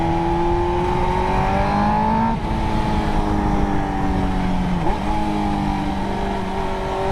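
A sporty motorcycle engine revving hard toward a 16,000 RPM rev limit, loud and close, its pitch rising and dipping through several sustained climbs with no voices.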